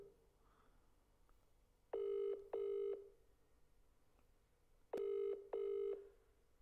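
A telephone rings out on a call in two double-ring bursts, clear electronic tones separated by quiet gaps, with no talking over them.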